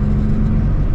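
A 1958 Porsche 356 Cabriolet cruising on the highway, its engine a loud, steady low drone and rumble with whirring road noise, heard briefly and without talking.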